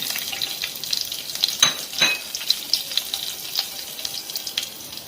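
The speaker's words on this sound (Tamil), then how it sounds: "எண்ணெய் ஊற்றி நம்ம இப்போ தாளிக்கலாம்." Cloves, cinnamon and fennel seeds sizzle and crackle in hot oil, a steady frying hiss with occasional sharp pops, close by and with no voices.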